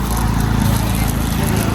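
TVS Ntorq scooter engine with an oil pump fault, a loud, close, steady mechanical drone with a rough low rumble.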